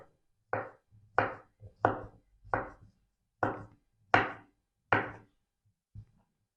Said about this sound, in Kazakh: Турап аламыз.